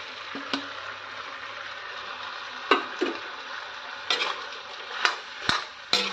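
Meat frying in a pan as pre-fried pieces are stirred in, giving a steady low sizzle broken by sharp spoon scrapes and clinks against the pan at irregular intervals.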